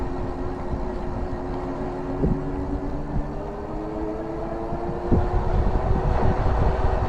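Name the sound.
Lectric XPedition 2.0 e-bike motor riding on throttle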